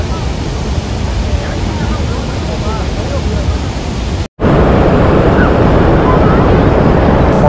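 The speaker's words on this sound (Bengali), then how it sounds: "এটাই হলো সেই চালাকুড্ডি রিভার, এই হলো আতিরাপল্লী ওয়াটারফল" The Athirapally waterfall on the Chalakudy river in Kerala, swollen by the monsoon, gives a loud, dense, unbroken roar of rushing water, with one brief dropout partway through.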